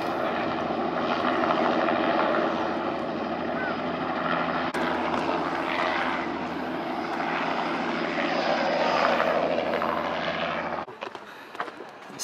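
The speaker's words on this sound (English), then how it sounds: "Helicopter's gonna land, I would say." A landing helicopter's rotor and engine roar steadily close by on the Cornish coast, a loud continuous churning that drops away sharply near the end.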